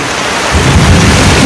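Heavy rain pours down in a village with a low thunder rumble swelling beneath it, a loud, close, continuous hiss across the short stretch.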